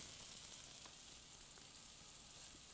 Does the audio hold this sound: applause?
no